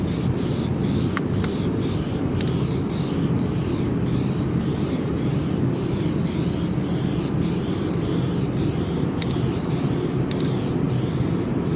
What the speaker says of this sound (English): You got to put a lot of paint on this to cover it because this can doesn't spray very thick.